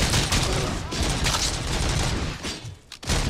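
Dense, loud bursts of gunfire in the RoboCop Rogue City video game on Xbox Series X, sustained rapid shots with a brief lull near the end, a voice talking faintly underneath.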